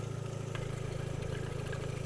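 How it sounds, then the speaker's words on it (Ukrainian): Opel Zafira engine idling with the bonnet open, a steady low mechanical hum with even rhythm throughout, close and moderate in level, with no talk over it. "Двигун працює чітко"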